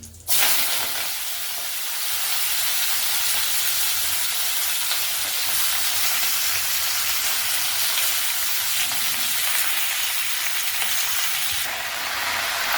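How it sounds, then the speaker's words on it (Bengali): Spinach, radish, potato, brinjal, carrot and pointed gourd tossed into hot oil in a kadai, hissing in a loud, continuous sizzle that holds steady throughout with no talking. "আমরা কেটে রাখা পালং শাক, মূলো, আলু, বেগুন, গাজর, পটল, সমস্ত সবজি আর পালং শাকটা কড়াতে দিয়ে দিলাম"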